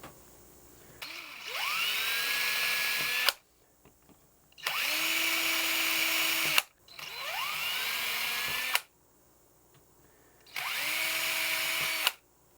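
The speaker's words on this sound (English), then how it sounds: "Let's drill these in." A small power drill with an eighth-inch bit drills holes in a custom guitar build, whirring in four bursts of about two seconds each, pitch rising as it spins up, separated by short pauses.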